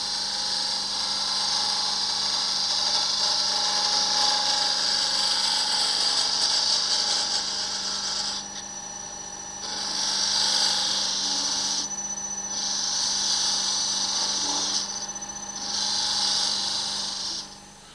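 A woodturning tool cuts a spigot on a spinning lathe, giving a steady high-pitched hiss and whine over the motor hum, broken into several separate cuts near the end.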